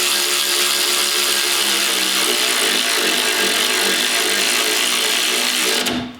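A Snap-on electric ratchet tightens bolts on a Can-Am Maverick X3 spare tire carrier, giving a steady, close mechanical whirring and clicking for about six seconds before stopping abruptly.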